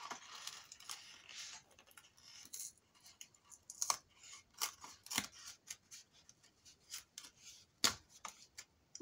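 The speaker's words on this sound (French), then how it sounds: "J'ai du mal à couper là." Scissors cutting paper for a scrapbook album, a close, quiet series of crisp snips and rustles in an irregular rhythm, with a few sharper clicks of the blades, no voices.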